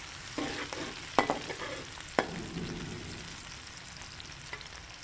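Green garlic cooks in a pan with a low, steady sizzle, marked by two sharp spatula clicks and some lighter stirring sounds close by.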